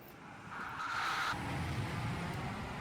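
A sports car skids in the video game Just Cause 3, giving a sustained tire squeal for about a second over a steady engine drone that continues afterward.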